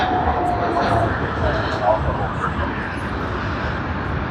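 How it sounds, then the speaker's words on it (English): Flight GA712 from Jakarta lands at Sydney Airport with its thrust reversers deployed, producing a loud, steady jet roar heard from a distance. "the nice thrust reversals, and then they'll be closing shortly"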